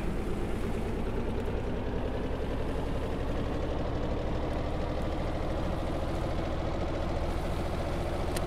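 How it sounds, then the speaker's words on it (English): A ship's generator engine running in the Stormworks game, a steady low idling rumble that stays constant and fairly loud throughout with no voices. "Generator is on."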